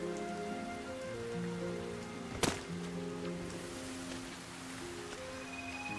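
Steady rain falls without a break in the video game Sky: Children of the Light, a dense even hiss of drops with one sharp splash or crack partway through and low tonal game music beneath.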